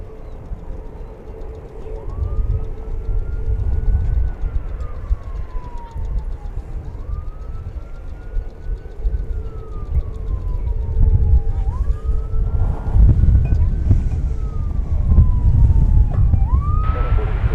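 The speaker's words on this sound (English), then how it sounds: "You hear a siren. It's on the road adjacent to us, not part of the airport." An ambulance siren wails on a road beside DFW Airport, a rising and falling tone repeating in slow sweeps at a moderate distance over steady low outdoor rumble.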